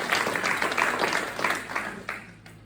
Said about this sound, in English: So let's give ourselves a round of applause for actually getting to it.